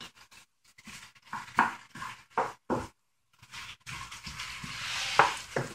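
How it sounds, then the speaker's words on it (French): Three colors of bell peppers are stirred quickly in red palm oil, with rhythmic scraping and clattering strokes in short bursts over a soft sizzle, close by and with no voices. "Je vais remuer le tout rapidement comme ça."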